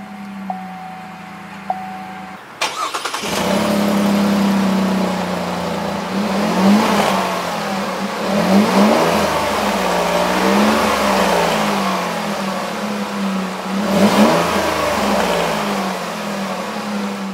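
A 2017 Chevrolet Colorado ZR2 pickup cranks with a brief starter whir, then fires into a loud, close idle; several sharp throttle revs swell and fall back to idle.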